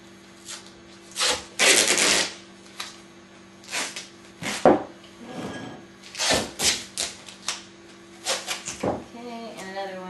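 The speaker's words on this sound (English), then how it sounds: "I'm going to use tape to stick them on." Tape is pulled and pressed to attach paper towel tubes to a vase while building a starch ghost: a series of sharp, crackly rips and taps, close and fairly loud, spaced irregularly between bits of talk.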